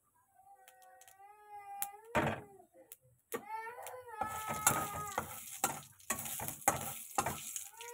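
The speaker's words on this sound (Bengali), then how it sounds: "জিরেগুলো একটু লাল লাল করে আগে ভাজা হোক।" Cumin seeds sizzle in hot oil in a home kitchen, a quiet crackling hiss broken by clinks and scrapes of stirring, with a few short tonal cries early on before the frying sound grows denser.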